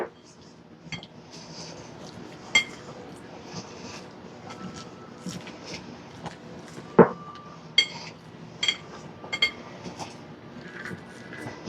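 Lasagna filling with egg being stirred in a bowl, a spoon clinking and scraping against the dish in irregular taps, close and moderately quiet, with soft room noise in between.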